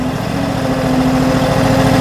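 A tracked 25 hp mini skid steer engine running steadily near idle, a close, loud, even mechanical drone with a constant low hum and no voices.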